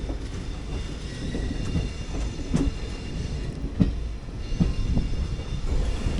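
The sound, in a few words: train running into SMBB Bengaluru station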